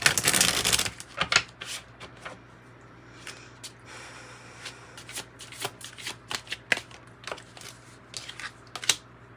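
Tarot cards are shuffled in the hands, a close burst of riffling followed by a run of light, irregular flicks and slaps as cards are handled and pulled over a faint steady hum.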